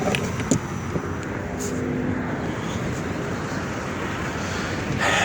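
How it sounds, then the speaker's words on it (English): A 2007 Ford Edge engine idles with a steady, even rumble and broad hiss that holds constant throughout, with some wind-like noise and no talking. "But let you listen to how it idles."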